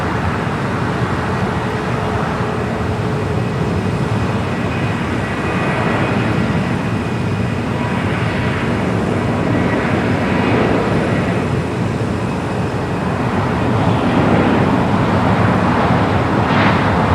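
A Boeing 787-10 Dreamliner arriving from Newark at Los Angeles airport produces a broad, steady jet roar, distant and sustained, swelling slightly toward the end amid airport background noise.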